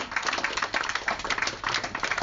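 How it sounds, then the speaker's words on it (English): Audience clapping after a poetry reading, a dense burst of many hands applauding at close range, steady and lively with no voices over it. "Keep the applause coming."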